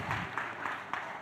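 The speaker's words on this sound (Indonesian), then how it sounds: "Ya boleh tepuk tangan, gak apa-apa." Children clapping in a church, a brief, faint patter of applause with a few distinct claps standing out over about a second.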